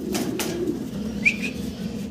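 A big pair of Hungarian house pigeons coo in low, continuous murmurs up close, with a brief sharp chirp-like note partway through over steady background noise.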